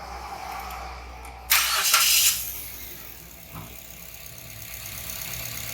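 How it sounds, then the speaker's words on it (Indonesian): A used car with an automatic transmission starts with a loud burst of cranking and firing, then settles into a steady low idle in neutral. "Terus untuk ngecek transmisi matic hidupin juga, mesin hidupin masuk netral."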